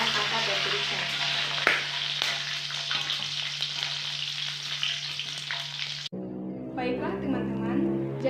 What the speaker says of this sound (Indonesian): setelah kita menggoreng bawang merah, bawang putih, cabai rawit dan cabai merah